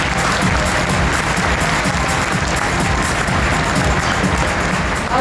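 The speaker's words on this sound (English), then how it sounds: "Let's give them all a round of applause." A large conference crowd claps steadily and loudly throughout, a dense, sustained wash of applause.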